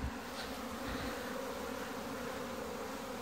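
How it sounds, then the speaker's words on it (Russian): Honeybees swarm busily around the hives of an apiary on a mild spring afternoon, many returning laden with pollen; their dense, steady buzzing hum fills the air close by without pause. "Реальные гонки начались у пчел."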